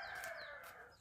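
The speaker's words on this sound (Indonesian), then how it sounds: "Dan ini ayam-ayam kampung ya." Free-range village chickens roaming loose outdoors give a short, faint crowing call at a distance in the early morning.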